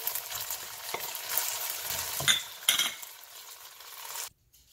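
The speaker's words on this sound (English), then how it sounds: "stir fry leftover noodles" Leftover noodles are stir-fried in a pan, giving a constant close sizzle with scraping and clinking of a utensil against the pan, a couple of sharper clanks near the middle, before the sound cuts off abruptly.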